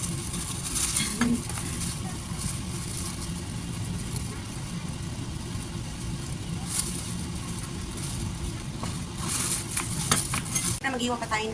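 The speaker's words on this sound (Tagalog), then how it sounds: "Magigisa tayo ng gulay." Vegetables sautéing in a pan give a steady low sizzle with occasional clinks of a utensil, close by, with a muffled background hum throughout.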